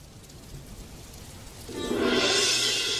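Rain in a cartoon scene, a faint patter that swells about halfway into a dense, loud, steady downpour hiss; no distinct thunderclap stands out.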